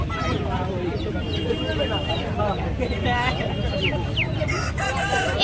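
Roosters crow and hens cluck over a busy crowd murmur at the Bantala rural market in Kolkata, with people talking nearby throughout.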